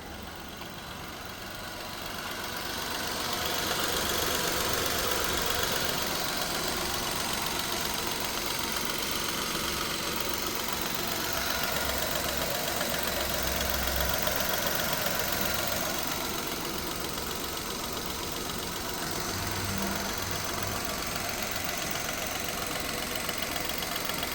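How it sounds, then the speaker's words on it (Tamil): A 2016 Datsun GO T petrol engine idles steadily at close range, a continuous even rumble with no voices. "இன்ஜினை ஸ்டார்ட் பண்ணி இன்ஜின் சவுண்ட் எப்படி இருக்குன்றதை வீடியோவில் அட்டாச் பண்ணி காட்டுறேன்"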